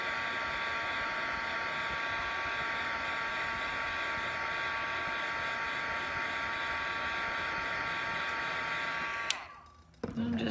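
A hair dryer blows a steady, loud, even whoosh with a thin whine while drying resin paint on a 3D resin-painted fish, running unbroken for about nine seconds before switching off abruptly.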